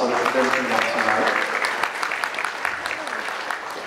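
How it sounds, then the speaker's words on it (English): Applause from a mixer crowd in a hall, cheering the tabletop booth exhibitors: dense, steady clapping throughout with a few voices murmuring underneath, tapering slightly toward the end. "Let's give them a round of applause for them coming out tonight."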